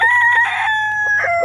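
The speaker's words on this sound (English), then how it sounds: "Look at all these chickens." Hens cluck steadily on a homestead while a rooster crows in bursts, loud and close, with several birds calling over one another against a low background hum.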